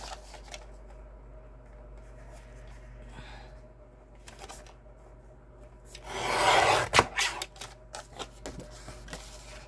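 A single rough cut through card, a short scraping slice about a second long, close and fairly loud after quiet room tone with faint small taps and handling noises.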